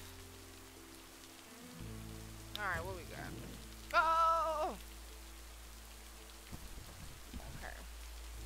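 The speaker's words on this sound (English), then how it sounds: "This rain is loud AF." Heavy rain falls in the video game Lake, a steady hiss running underneath, while a player briefly speaks and a few bleating, warbling game sounds rise above it.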